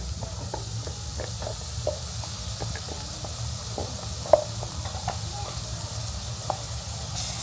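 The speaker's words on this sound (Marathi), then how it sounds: "त्याचं वाटण ॲड करतो आहे." Roasted masala paste for a creek prawn rassa sizzles steadily in a hot pan, a continuous frying hiss dotted with faint pops and crackles, heard up close with no talking.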